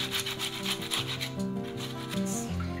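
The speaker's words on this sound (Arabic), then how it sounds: "هاي غادي تحك هاد الحبه ديال المطيشه" A fresh tomato rubbed by hand against a grater in a home kitchen while making chicken rfissa, giving rhythmic scraping rasps, close and steady, over background music.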